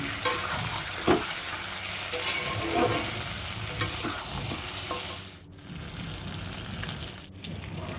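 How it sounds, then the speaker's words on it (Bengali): Mutton and papaya frying in a pan, a continuous loud sizzle under repeated stirring and scraping of the spatula, close up, with no talking. "পেঁপে দিয়ে আরও ভালো করে কষিয়ে নিয়েছি"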